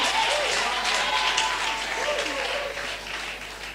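A crowd at a church healing service applauds and cheers for Jesus, a steady wash of clapping with a voice speaking over it.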